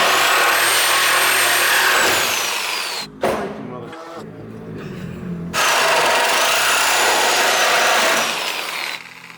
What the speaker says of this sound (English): Finishing touches always with a Sawzall.